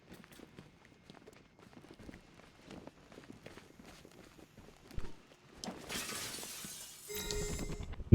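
Glass shatters suddenly after several seconds of soft, scattered footsteps, a bright crash with tinkling fragments followed by a second burst of breaking debris. It sounds fairly close and moderately loud.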